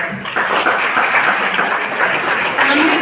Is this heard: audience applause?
yes